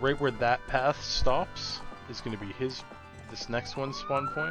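A siren wails and sweeps faintly in the background while a person talks continuously over it.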